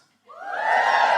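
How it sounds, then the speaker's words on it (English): A live comedy podcast audience in Canterbury bursts into cheering and whooping, rising abruptly from silence to a loud, sustained crowd roar that holds to the end. "Just give me a cheer if you're feeling more feminist than guilty tonight."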